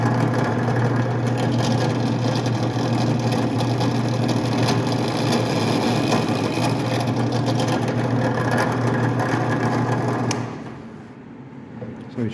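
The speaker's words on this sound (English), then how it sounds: "lines up his next drill hole, then turns it back on" A drill running continuously while boring fret dot holes in a wooden guitar fretboard, a steady buzzing whine with a low hum beneath, spinning down and stopping near the end.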